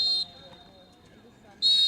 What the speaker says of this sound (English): as the referee whistles for halftime